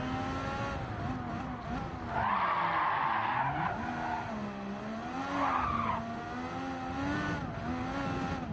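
A race car in Gran Turismo 7 skids into the gravel: a steady, loud engine tone with two bursts of tire screech and skidding noise, no voices.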